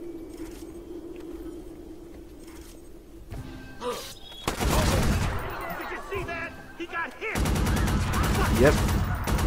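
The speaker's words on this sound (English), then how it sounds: "Yep, those are definitely bullets." Gunfire in the video game Watch Dogs: after a quieter stretch, loud bursts of rapid automatic shots break out in two long volleys, with other clatter and game sounds around them.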